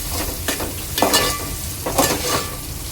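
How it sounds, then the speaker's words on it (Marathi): Onions sautéing in hot oil for a Koli-style prawn curry, a steady sizzle and crackle with a few louder bursts as the pan is stirred, close and with no talking. "आता कांदा आपला चांगला 3 ते 4 मिनिटं तेलावर परतून घ्यायचा आहे।"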